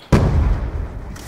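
A single sharp, loud sniper rifle shot in a first-person shooter video game, with a booming low-heavy decay lasting about a second and no talk over it.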